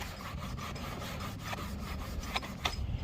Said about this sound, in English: So this is just gonna scrub it clean to neutralize it